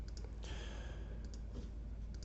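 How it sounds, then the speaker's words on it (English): A few faint, sharp computer mouse clicks sound sparsely over a low steady room hum, quiet and close, with no talk. "by clicking this X in the top right corner."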